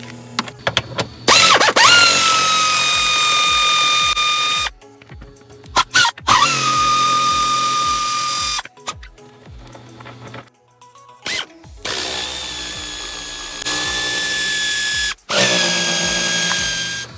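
Power tool removing 18 mm front seat bolts from a Jeep Wrangler JK: several loud, high-pitched whirring bursts of a few seconds each, separated by short pauses and clicks, close to the microphone.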